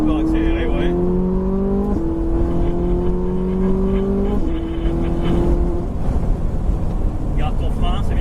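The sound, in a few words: Ferrari race car accelerating out of a corner on a track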